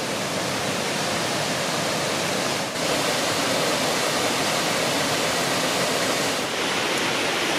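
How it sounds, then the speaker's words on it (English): A large, rowdy waterfall pours at a wild camping spot, a dense steady roar of rushing water filling the whole stretch at an even level with no voices. "hoping that the waterfall sends me to sleep"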